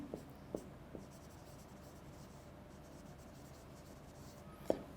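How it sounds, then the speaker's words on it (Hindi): Writing on a board during a lecture: soft, continuous scratching and rubbing strokes, quiet and close, with a few small taps of the marker or chalk. No one speaks. "मैं दोबारा इसको लिख देता हूं।"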